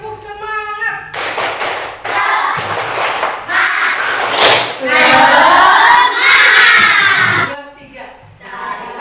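A primary school class doing a rhythmic clapping chant together, loud children's voices shouting in unison between bursts of claps, with an adult voice heard briefly at the start.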